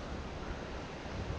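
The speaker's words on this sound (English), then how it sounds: "Back up on the tributary, the first stream I started on." Steady broadband rush of stream water flowing along a tributary, continuous and fairly loud throughout with no talking.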